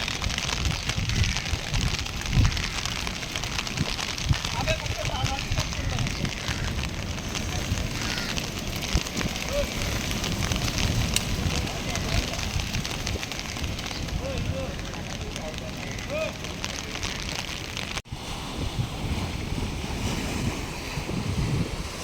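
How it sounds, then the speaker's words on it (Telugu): Strong waves crash on the shore after rain, a continuous rough roar of surf mixed with heavy wind buffeting the microphone for the whole stretch, with no clear pauses. "ఈ వర్షం వల్ల అనుకుంటా ఫుల్ అలలు గట్టి కొడుతున్నాయి"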